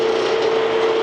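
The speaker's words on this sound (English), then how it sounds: "You can see this is a good bit, a good drill bit. It's taking cutting good pieces of metal out of it." A drill bit cutting chips out of a metal crankshaft for balancing, producing a steady, loud grinding whine with a constant pitched tone throughout.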